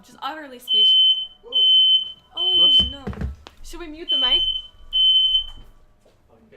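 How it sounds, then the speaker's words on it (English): An apartment fire alarm set off by smoke shrills in repeated loud, steady beeps, about five pulses in a regular rhythm, while people talk over and between them. "That was the fire alarm."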